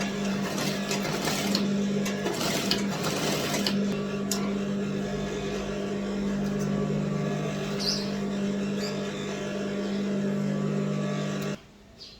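A sewing machine stitches fabric with a steady, even mechanical whir that runs continuously and then cuts off abruptly near the end.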